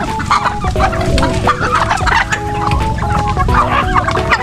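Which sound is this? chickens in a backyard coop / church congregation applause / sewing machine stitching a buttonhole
chickens in a backyard coop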